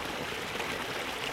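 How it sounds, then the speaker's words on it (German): Water flowing along a small forest brook in a wooded valley, a steady close rushing and trickling wash with no voices. "Na, hier fließt auch richtig das Wasser durch."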